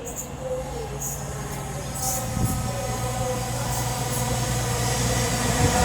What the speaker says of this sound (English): now approaching, they're going to be 220027, working the 1700 cross-country service from Manchester Piccadilly to Bristol Temple Meads